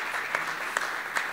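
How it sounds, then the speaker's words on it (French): Brief burst of audience applause for the French Institute team at an evening event with the Lebanese ambassador, a steady wash of clapping with a few sharper claps, no talk over it. "Et on peut les applaudir."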